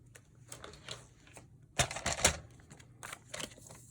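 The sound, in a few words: cutting paper for a junk journal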